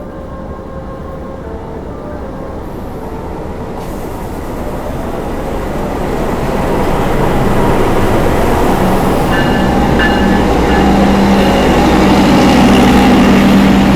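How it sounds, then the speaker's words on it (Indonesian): Argo Merbabu passenger train bound for Semarang Tawang arrives at the station, a steady rumble of wheels and engine building gradually louder and nearer, with tonal squeals of brakes or rails near the end; no talking. "Dan ini dia kereta api Argo Merbabu dengan tujuan akhir stasiun Semarang Tawang"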